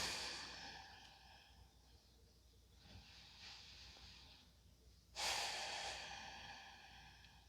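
Slow, audible breaths during a stress-reduction yoga practice, a long exhale fading into a pause, another softer breath, then a sharp loud inhale-exhale near the end, close and alone.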